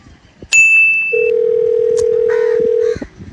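A telephone call in progress: a short high electronic beep is followed by a steady, loud, close-up tone held for about two seconds before it cuts off, with some faint background noise.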